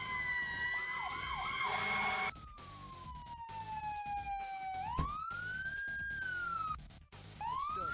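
A fire truck siren in the Emergency 4 video game, a loud electronic wail that sweeps down slowly and then rises again, with a brief horn-like burst at the start and a short dropout near the end.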